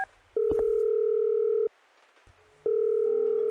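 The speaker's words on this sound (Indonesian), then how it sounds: "Tuan Wang, coba telepon sekali lagi" A telephone placing a call gives two long, steady electronic tones with a short silent gap between them, loud and clear with no talking.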